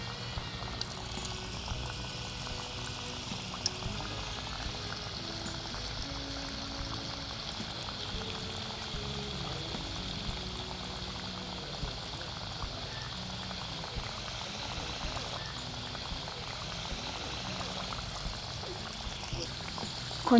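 Vada frying in hot oil gives a steady, moderately quiet bubbling sizzle that runs throughout with little change.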